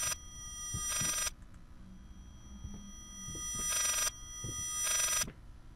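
An old-style telephone bell rings in the horror game Layers of Fear, with several short, bright bursts separated by pauses over a quiet, faintly hollow background.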